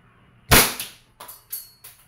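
A WE 2011 Hi-Capa T-Rex airsoft pistol fires four sharp, close, loud cracks in quick succession, the first strongest, spaced unevenly over about two seconds with no talk.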